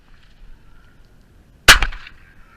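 A single loud, sharp gunshot rings out during crow control in the morning, cracking suddenly after a quiet stretch and then fading in a short echoing tail.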